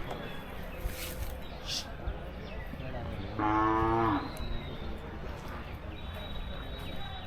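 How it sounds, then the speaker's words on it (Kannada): Hallikar calves at the Sugganahalli cattle fair in Magadi taluk, Ramanagara district: one loud, drawn-out moo rises close by for under a second amid a busy fair murmur and distant crowd noise. "ನೀವು ಇಲ್ಲಿ ನೋಡ್ತಾ ಇರ್ಬೋದು ಎಲ್ಲವೂ ಸಹ ಹಾಲೋಲಿನ ಕರುಗಳು"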